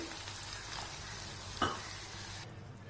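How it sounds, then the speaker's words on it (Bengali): Mushroom masala fries in a pan as a small splash of hot water goes in, giving a steady soft sizzle with a brief louder hiss and bubbling surge, then settling back. No voices. "আমি এবার খুব অল্প পরিমাণে একটু জল দিয়ে দেব, গরম জল"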